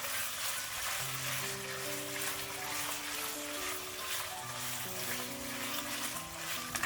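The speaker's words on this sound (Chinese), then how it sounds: "油热之后先将五花肉倒进来， 大火翻炒， 把五花肉里边的油脂炒出来" Pork belly stir-fries in hot oil over high heat, a steady close sizzle and crackle with faint stirring, accompanied by soft background music.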